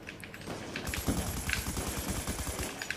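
Rapid LMG hip-fire rattles in Black Ops 2, a fairly faint steady stream of closely spaced automatic shots lasting a few seconds, with no talking.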